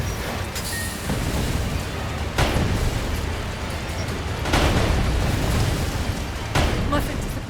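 Booming cannon blasts and explosions from the video game Sand Land, several heavy bursts landing around 2.4, 4.5 and 6.6 seconds over a dense rumbling battle bed, with game voices speaking beneath.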